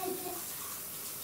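A bowl being rinsed under a running kitchen tap, a short steady wash of flowing water heard close by without talking.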